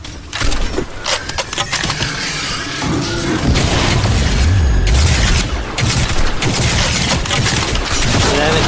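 A loud explosion in the Crysis 3 video game erupts into a sustained, crackling roar with deep rumbling and scattered sharp bangs, filling the whole stretch without fading.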